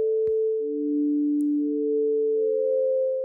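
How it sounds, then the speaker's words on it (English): A plain sine-wave synth tone from Arturia Pigments holds steady and loud, with a second lower tone entering soon after, both sustaining cleanly without any voice. "So it's just a basic kind of sine wave there."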